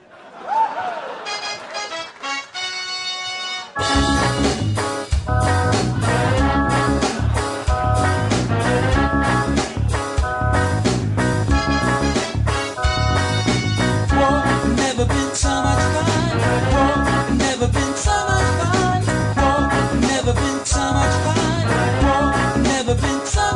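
Cannon Fodder theme tune played on an arcade game controller, a loud, busy stretch of steady chiptune-like melody with dense harmonics and a driving beat, starting after a softer few-second intro.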